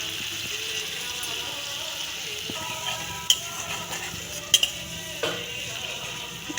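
Spices with turmeric fry in oil in a pan for a Bengali-style potol dish, a steady sizzle under intermittent scraping stirs and a few sharp metallic taps of the utensil against the pan.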